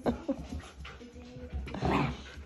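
Poodle puppies play-fight at close range, with a steady run of small whimpers, yips and scuffling that swells louder near the end.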